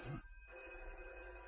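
A telephone bell rings in a short burst, then stops, leaving a quiet room with a faint steady hum.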